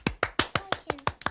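Eight distinct hand claps in a steady, quick rhythm, close and fairly crisp, for a winner named Hayley during a children's numbers game.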